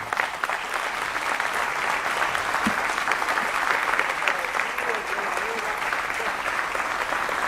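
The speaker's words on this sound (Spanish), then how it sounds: "Den un fuerte aplauso al Señor." A church congregation applauds loudly and steadily throughout, a dense, even wash of clapping from many hands with no pauses.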